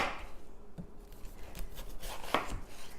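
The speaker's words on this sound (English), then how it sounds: "put it flat side down on your cutting board. And then I just like to make some thick slices." A knife cuts a watermelon resting flat side down on a cutting board into thick slices, giving a few soft crunches and scraping strokes with a sharp crisp cut near the end, quiet and close.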